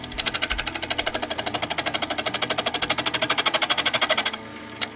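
Wooden spinning top being trued on a lathe with a detail gouge, giving a rapid, even chattering rattle that repeats steadily for about four seconds before stopping, with a single knock after.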